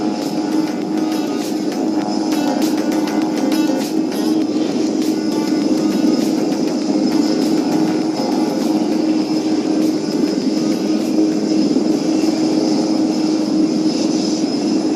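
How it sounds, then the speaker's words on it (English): Aerobatic team aircraft from the Surya Kiran display team take off at the Aero India 2023 air show in Bengaluru, giving a steady, loud engine roar that holds throughout without pause. "We are standby for the Surya Kiran aerobatic team takeoff."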